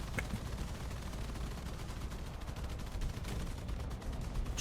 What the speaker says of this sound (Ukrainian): У нас є крупнокаліберний Браунінг.